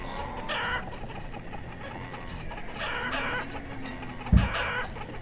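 Chickens in the village-building game Banished cluck and chatter softly in the background, with a few higher calls rising now and then and one brief sharp sound near the end.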